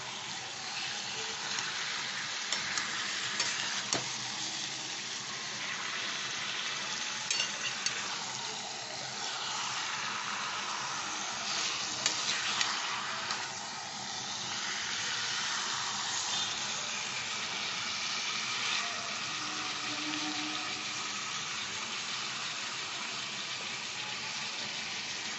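Chicken masala for a Bengali chicken dak bungalow dish sizzles and fries steadily in a pan as it is stirred, a continuous close crackling hiss with occasional scraping and no talk.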